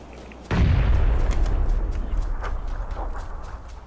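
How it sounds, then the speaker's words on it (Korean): A grenade goes off in a battle royale shooter: one sudden loud, low blast with a rumbling tail that fades over a few seconds. "아나 수류탄 던졌는데"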